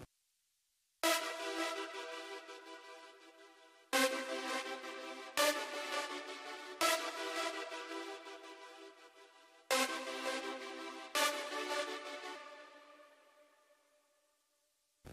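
Six bright synth chords from the Nexus Apergios Voix AR Viral Infection 2 preset, each struck sharply and decaying slowly, spaced unevenly at a steady moderate level, with the final chord fading out into silence.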